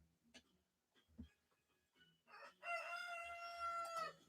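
A single rooster crows near the end, a long drawn-out cock-a-doodle-doo, after a few quiet clucks and soft knocks.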